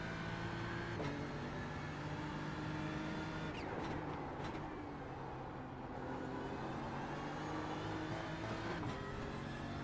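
A BMW M4 GT3 racing at Bathurst in iRacing, its engine droning steadily with several sharp gear-change shifts and rising revs, close and continuous without talk.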